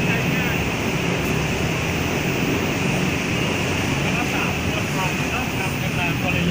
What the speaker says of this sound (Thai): รถไฟมาพอดีเลย